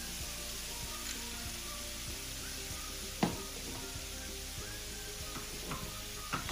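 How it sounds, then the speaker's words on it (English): Vegetables stirred in a pan as sweet chili sauce simmers, a soft continuous sizzle with light scraping strokes and one louder clack of a utensil midway, fairly quiet and without talk. "we're going to stir so that the sweet chili sauce simmers in everything"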